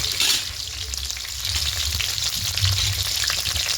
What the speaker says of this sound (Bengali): হালকা একটু ভেজে নেব এইভাবে।